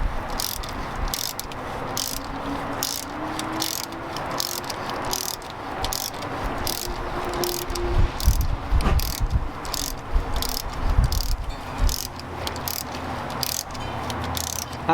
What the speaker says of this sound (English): And then you're just gonna turn it and tap it right in.